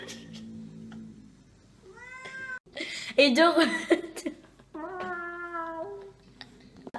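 A cat meows several times at close range, with rising and falling calls and a louder drawn-out yowl in the middle, while people talk and laugh softly around it.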